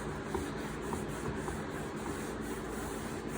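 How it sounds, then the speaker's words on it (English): A rag rubbing gel stain into a wooden kitchen cabinet, giving a steady, close, continuous swishing and scrubbing texture with faint rhythmic strokes and no talking. "I'm taking my rag and rub it out"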